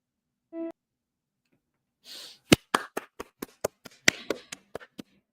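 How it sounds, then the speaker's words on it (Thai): A short electronic tone, then a burst of about ten sharp hand claps in a steady rhythm, close and crisp, with no talking. "ปบมือให้กำลังใจตัวเองนะตอนนี้นะ"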